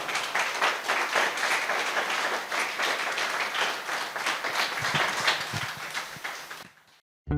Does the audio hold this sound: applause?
yes